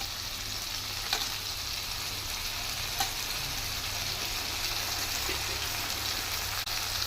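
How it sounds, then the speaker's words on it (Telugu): Cashews sizzling and frying in oil in a pan while being stirred for tomato rice, a steady close hiss with occasional light scrapes and no talking. "వేసి ఒకసారి కలుపుకుందాం"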